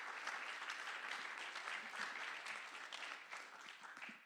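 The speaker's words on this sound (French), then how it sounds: "On peut vous applaudir encore une fois." Audience applause at a conference session on territories, steady dense clapping from a hall crowd, moderately distant and fairly even throughout, with no voices over it.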